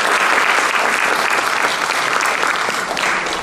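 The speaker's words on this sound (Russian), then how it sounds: "Похлопаем!" Audience at a live comedy concert evening breaks into steady, loud applause, a dense wash of clapping that holds evenly from start to finish with no voices over it.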